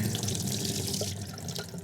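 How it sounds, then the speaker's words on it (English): Water pours steadily out of a container into a basin in a cluttered basement, a continuous close splashing gush throughout. "let's get rid of this water"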